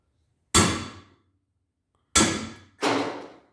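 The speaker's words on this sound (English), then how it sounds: "Use our hammer to knock it out." Three sharp metallic hammer blows on a driver tool set against a seat insert weld, each loud strike ringing briefly and decaying, the first alone and the last two close together.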